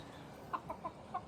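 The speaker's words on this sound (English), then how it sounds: "Chickens." Chickens cluck nearby in a quiet yard, with four short, soft clucks spaced out in an uneven rhythm over faint background hiss.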